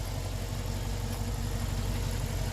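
A Dodge Charger R/T sits idling with a constant deep rumble and slight vibration, close by and steady, with no one talking.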